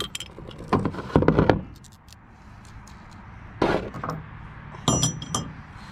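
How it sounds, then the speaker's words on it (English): A regular wrench working a bolt on a WEN DF475T generator during assembly, with several sharp metallic clinks and ratcheting taps in short bursts separated by quiet gaps, close and fairly clear. "So, a regular wrench."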